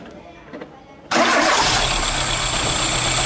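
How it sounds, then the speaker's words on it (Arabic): A misfiring car engine cranks and catches, then runs loudly and unevenly close by with a rough, stumbling idle. "شفتوه تو الموتور كي يشردح"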